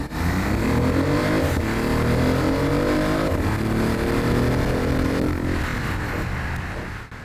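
A BMW i8 hybrid supercar with a small 1.5-litre three-cylinder engine revs hard, its artificial exhaust note rising and falling in loud, sustained sweeps.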